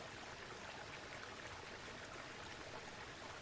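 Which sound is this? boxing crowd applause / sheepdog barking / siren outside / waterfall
waterfall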